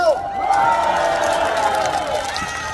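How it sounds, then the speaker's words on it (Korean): A comedy show audience shouts and cheers together, a loud, sustained crowd roar of mixed voices that holds steady for a few seconds. "다 같이 함성!"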